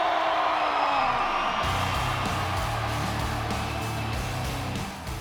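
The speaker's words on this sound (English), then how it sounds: "Make some noise for Colten Moore!" A large crowd at a Nitro action-sports event cheers and whoops, a broad roaring wash of voices that holds steady for several seconds and tails off slightly at the end.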